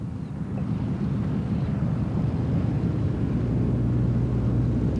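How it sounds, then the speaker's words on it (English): A formation of World War II Harvard aircraft lands at Ostend, producing a steady, loud, low propeller-engine rumble that drones on evenly throughout with no other sounds over it. "Possibly the biggest collection of World War II aircraft seen since the war, as they land here at Ostend on the final leg of their trip."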